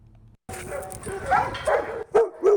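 A rescue dog lets out a few quick, fairly close barks in succession after a brief quiet moment.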